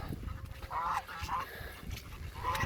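Geese and ducks honk and quack in a few short bursts beside a rain-swollen pond, calls spaced apart over a steady wet background hiss.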